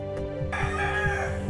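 A Kadaknath rooster from Jhabua district crows once, a short, close, harmonic call heard alone.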